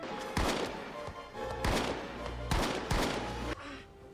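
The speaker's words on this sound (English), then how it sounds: "Who shot him?" In a scene from the TV series Dead Like Me, several sharp gunshots go off in separate bursts, each a loud crack with a short ringing tail, spaced irregularly over a few seconds.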